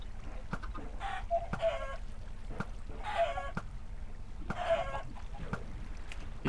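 Clucking from a chicken in Minecraft on an automatic chicken farm comes in three spaced bursts of repeated clucks, fairly close and clear, with sharp clicks scattered between them and no talking.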